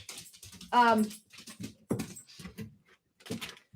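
Puppies whimper and yip eagerly while waiting for treats, with one long high whine followed by softer whimpers and panting, close by and mixed with a person talking to them.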